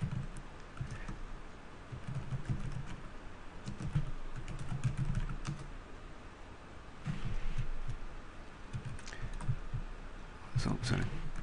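Computer keyboard keys clicking in uneven bursts, moderately close and quiet, with soft thumps and a low steady background hum between flurries of typing.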